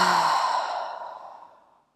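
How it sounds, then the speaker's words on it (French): A slow, deep exhale through the mouth during a calming meditation, one long breathy sigh that starts full and close and fades away over about two seconds. "on inspire profondément, on gonfle les poumons et on va expirer avec la bouche"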